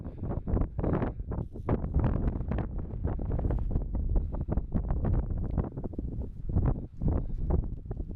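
Strong wind gusts buffet a microphone on the exposed hilltop of Ard Crags, a loud continuous roaring rumble with rising and falling surges and no voices.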